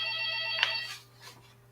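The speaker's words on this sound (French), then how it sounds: "Encore le téléphone." A telephone bell rings in a quiet room, one loud, close ring that cuts off and then rings briefly again more faintly, with a low steady hum underneath.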